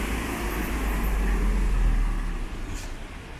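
A heavy Nairobi-to-Marsabit bus engine rumbles steadily nearby in Kenya under a broad wash of road and traffic noise, with no voices.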